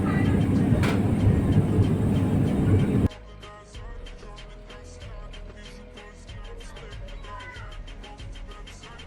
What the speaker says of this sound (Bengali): এই যে আমরা হজরত শাহজালাল আন্তর্জাতিক বিমানবন্দরে ল্যান্ড করলাম